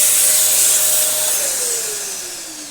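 A Dyson DC07 upright vacuum cleaner runs steadily with its brush bar spinning on carpet, giving a loud, close, airy whine whose pitch slowly drifts downward, with no talking.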